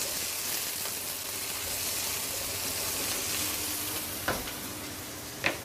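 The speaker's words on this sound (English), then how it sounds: "So I'm just going to stir this around a wee bit." Food sizzles steadily in a hot frying pan as it is stirred, a constant close crackle with a couple of sharp scraping clinks near the end, no talking.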